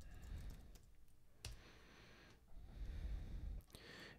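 Password typed on a computer keyboard: a few soft, scattered key clicks and taps, faint and close, with quiet breathing-like noise between them and no talk.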